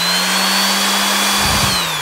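A DeWalt DWE6423 variable-speed 5-inch random orbit sander on its slow setting hums steadily at a low, even pitch, loud and close, with a slight dip in tone near the end.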